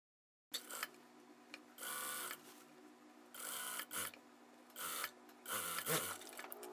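Sewing machine stitching a bias strip along a garment neckline: several short, close bursts of rapid mechanical stitching separated by brief pauses and quiet handling sounds.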